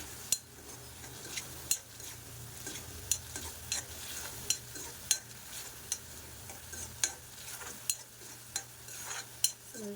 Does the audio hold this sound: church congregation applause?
no